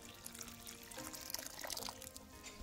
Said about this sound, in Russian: Постепенно, по чуть-чуть заливаем